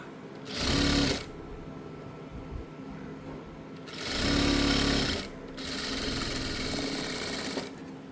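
Sewing machine stitching the sleeve of a girl's shirt, running in three bursts of steady motor whirr and needle chatter separated by short pauses, close and fairly loud.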